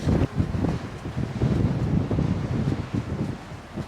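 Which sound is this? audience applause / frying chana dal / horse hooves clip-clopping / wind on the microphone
wind on the microphone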